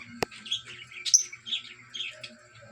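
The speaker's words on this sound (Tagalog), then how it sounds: "Bantam chicken." A bantam chicken in a backyard pet garden makes soft, quick chirping calls, fairly faint and close, after one sharp click at the start.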